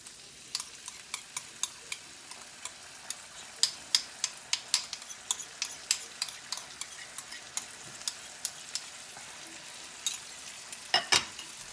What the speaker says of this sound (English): So I'm just going to leave this here to cook for a couple of minutes.